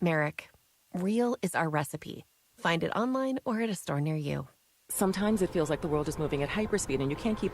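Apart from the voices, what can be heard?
No everyday noise stands out behind the speech.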